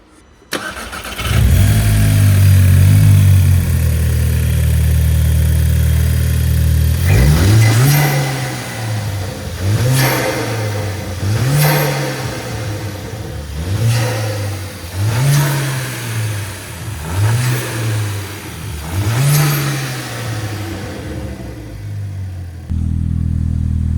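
A VW Caddy GTI van with a new RAMAIR intake idles loudly, then revs repeatedly, six or seven rising and falling engine sweeps in a steady rhythm, close and prominent before settling back to idle.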